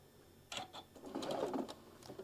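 A home sewing machine puts a short burst of stitches through quilt fabric pieces, a quiet whirring run of rapid needle strokes lasting about a second.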